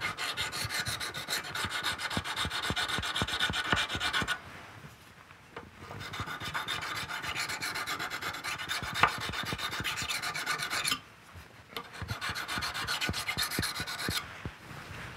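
A knife blade is honed on the coarsest sharpening stone, with steady back-and-forth rasping strokes in close, continuous runs broken by two brief pauses.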